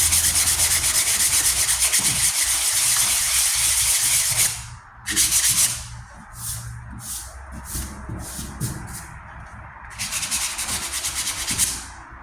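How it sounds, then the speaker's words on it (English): Sandpaper scrubbing Bondo filler and primer on a 1998 Ford Ranger tailgate, heard as close, loud continuous rasping strokes, then a run of short separate rubs and another long sanding stretch. "The more I sand out, the more I'm like, ah man, I'm going further away."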